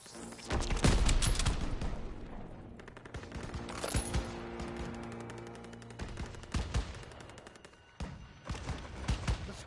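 Heavy gunfire in a WWII game battle, overlapping machine-gun bursts and rifle shots rattling loudly and continuously, with sharp close cracks and distant booms throughout.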